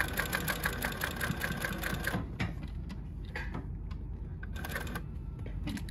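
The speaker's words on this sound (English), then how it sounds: "It's a very heavy sewing machine" A JUKI LH-3588A heavy lockstitch sewing machine runs in fast rhythmic bursts of stitching, stopping briefly in the middle and then starting again, loud and close.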